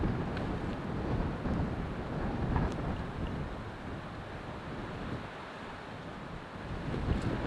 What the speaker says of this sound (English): a little bit windy at the moment, so try and hopefully my voice isn't crackly from the wind hitting the mic